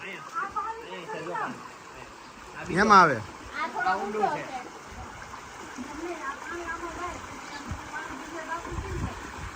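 Water flows below a wall with a faint, steady rushing wash, while people talk over it in the foreground.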